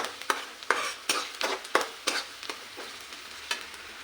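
Onion frying in oil as a spatula scrapes and stirs the pan in a series of sharp, irregular strokes, close and without speech.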